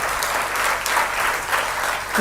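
A congregation claps together in praise during a Telugu Christian worship message, a steady, dense burst of hand clapping heard up close.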